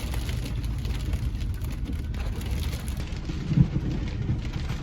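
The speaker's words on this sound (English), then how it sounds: "We just got hit with a big storm" Heavy rain pours steadily through a sudden big storm in a residential neighbourhood, a dense continuous roar with a brief low rumble of thunder near the end, no voices.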